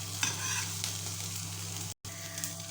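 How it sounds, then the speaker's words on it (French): Onions sizzle and fry steadily in a pan, a close, even crackle with a few stirring scrapes and a brief cut near the end. "Donc je les fais revenir jusqu'à qu'ils soient translucides, qu'ils aient bien fondu."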